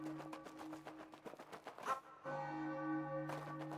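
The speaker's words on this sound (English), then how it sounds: "And I hear the bells again." Bells ring on the moon level of the Super Mario Odyssey video game, a steady chiming peal with sustained tones that swells again near the end, heard alone.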